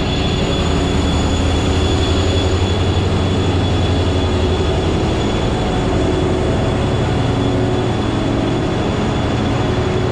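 Amtrak passenger train in Chicago bound for New Orleans, a steady loud rumble and hum of the railcar throughout, no voices.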